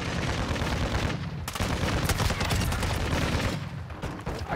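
Dense automatic gunfire from Call of Duty: Modern Warfare II rattles in fast, close bursts, overlapping shots layered with sharp cracks and brief lulls, loud throughout with no talk.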